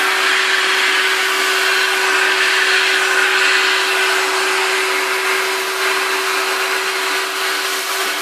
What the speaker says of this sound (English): I'm going to simply Hoover all of this up